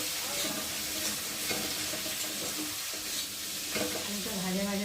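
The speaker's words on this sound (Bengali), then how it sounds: "চলো একটু আলুটাকে নেড়ে দিই" Potatoes frying in oil in a pan, a continuous close sizzle with spatula stirring and scraping throughout, no speech.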